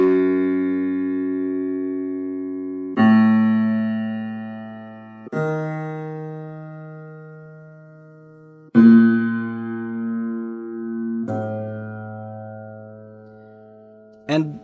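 Historical hammer piano notes and chords struck one after another, each ringing out and slowly decaying, with a mellow, slightly old-fashioned tone and no voices.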